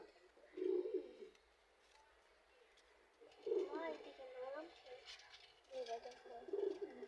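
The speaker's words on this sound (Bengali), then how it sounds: "কবুতরের শব্দ" Soft pigeon coos come in a few separate bursts, nearby and gentle, with quiet stretches between and faint voices in the background.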